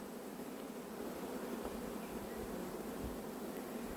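A swarm of honey bees is being shaken loose and collected in the evening at Varennes-sur-Seine, giving a soft, steady, dense buzzing hum that stays faint and continuous throughout, with no talking.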